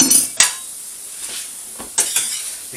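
Sweet corn and onion tipped into a pan of minced beef, with a few sharp clinks and scrapes of a utensil against the pan and a faint sizzle between them.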